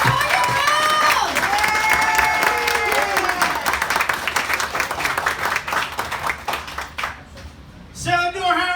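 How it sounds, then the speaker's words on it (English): Comedy club crowd at the Cellar Door in Baltimore clapping and cheering for a comedian, loud sustained applause with whoops at first, tapering off before a voice speaks to the room. "Please give a big, warm round of applause right now. Start clapping."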